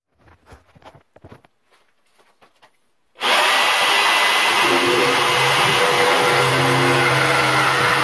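A power tool cuts along PVC pipe for a truck fishing pole holder, starting abruptly as a loud, steady whine after a few seconds of light handling knocks and runs continuously to the end.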